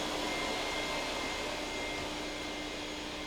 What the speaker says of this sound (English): I vacuum out electrical boxes, heating ducts, and clean up around window openings.